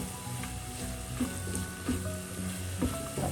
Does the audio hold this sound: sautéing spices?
yes